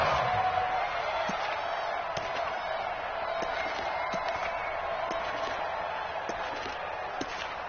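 Steady roar of a stadium crowd at an American football game, a broad, continuous wash of voices with scattered sharper shouts and claps throughout.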